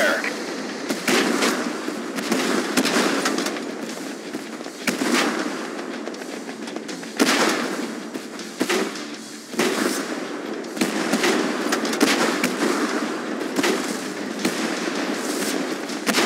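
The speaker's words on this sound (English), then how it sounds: "Gunfire!" Tank battle on the Great Wall map in the online game Tank Force, with loud, sharp cannon blasts and bursts of gunfire going off repeatedly and irregularly, some close and some farther off, over a constant rumble of battle.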